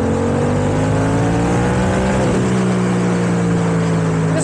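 Yamaha MT-07 motorcycle engine on a ride, a loud steady drone with harmonics that rise under acceleration, dip briefly at a shift, then settle into an even hum mixed with wind rush, with no talk.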